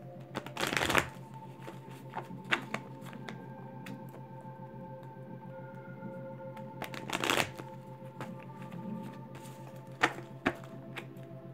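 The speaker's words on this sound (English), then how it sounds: "Shuffling this deck too because we're also going to take one of these too" A well-worn deck of tarot cards being shuffled by hand, with a few loud riffling bursts of flapping cards spaced through a soft background of quieter handling clicks and rustles.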